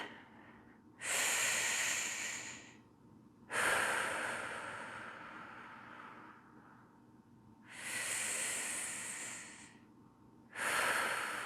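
Slow deep breaths in a breathing and bracing exercise, four long airy inhales and exhales close to the mic, separated by quiet pauses.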